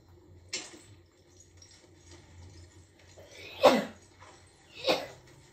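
Two sharp sneezes from a man during an Apex Legends gaming session, the first around the middle and the second about a second later, loud and close over a low game hum.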